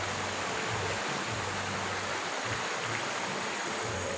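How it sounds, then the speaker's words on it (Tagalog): River or stream flowing behind a house on a rainy day, a steady, even rush of water throughout with no pauses and no voices. "ito likod namin ng ilog o sapa"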